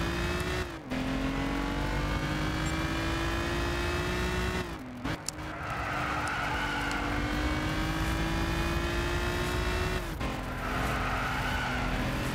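Ford Dino car engine in the Gran Turismo 6 racing game at evening, droning loudly and steadily with pitch rising through gear changes, brief shifts and tire squeal, no voices.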